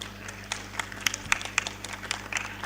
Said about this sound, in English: A big hand of applause for them.